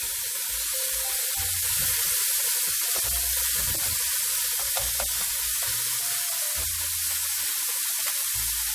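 Mushrooms hiss and crackle in a pan where bacon has just been browned, a steady, loud, close sizzle running unbroken throughout with no voices.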